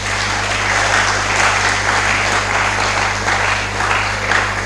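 Sustained round of applause from an audience at a college of engineering freshmen orientation, steady dense clapping held at an even level throughout, over a low constant hum.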